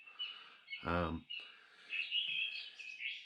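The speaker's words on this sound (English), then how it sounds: "on the list is the song thrush, often seen on the floor in gardens looking for snails, worms, etc." A song thrush sings in a garden, bright repeated chirping phrases fairly faint behind a brief spoken voice near the start.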